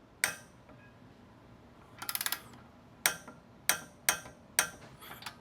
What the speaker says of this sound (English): final step, torque her down